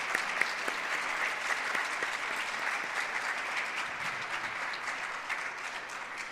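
A church congregation at a conference claps steadily together, a dense, even applause that holds at a constant level throughout.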